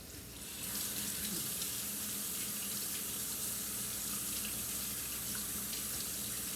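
Water runs steadily from a kitchen tap into a sink as hands are rinsed, a continuous close splashing rush that starts quickly and holds even throughout.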